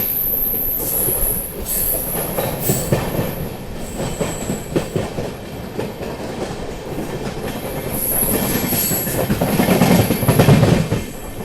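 Delhi Gaya Amrit Bharat Express rolling through Prayagraj Junction, a loud continuous rail rumble with clattering wheels and high-pitched squealing from the wheels on the track, recorded from aboard.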